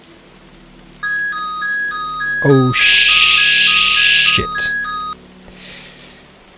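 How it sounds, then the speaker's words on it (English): Alarm-like electronic beeping from the survival game Cataclysm: Dark Days Ahead plays as a loud pulsing two-tone pattern, followed by a burst of harsh hissing noise that ends abruptly, with a brief startled exclamation from a voice. "I actually thought that was my house alarm then."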